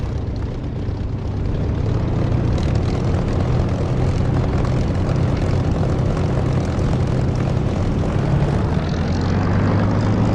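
A propeller aircraft taxis in the DCS flight simulator game, its engine drone loud and continuous with a low throbbing hum throughout, without speech.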